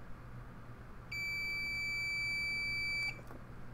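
A multimeter set to continuity mode gives one steady electronic beep lasting about two seconds while its probes test a circuit board connection near a lifted solder pad, in an otherwise quiet room.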